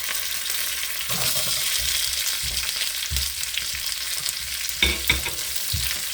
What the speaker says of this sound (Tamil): எல்லாத்தையும் நல்லா தாளித்து இந்த மாவில் போட்டு கரைச்சி எடுத்துக்கிறோம்